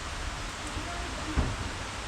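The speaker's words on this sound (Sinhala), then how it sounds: "හොඳටම වහිනවා අර කඳු එහෙම පේනවා ඇති." Heavy rain falls over a hill country villa, a constant dense hiss of downpour heard from a covered spot, with one brief thump near the end and no talking.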